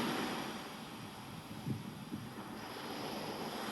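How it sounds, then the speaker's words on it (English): Steady ocean waves rolling and washing onto shore, a constant broad wash with faint wind noise and no voices. "listening to the waves"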